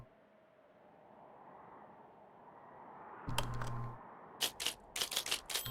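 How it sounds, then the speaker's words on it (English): Typewriter typing in the Firewatch video game: a few crisp key clacks, then a quick run of sharp, close strikes over a low ambient hum. "I'm using my typewriter."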